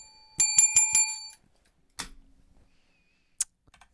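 A bright bicycle-bell style notification chime rings in a quick burst of four strikes, followed by a softer click-and-ding pair and a final short ping, loud and clean with no talk.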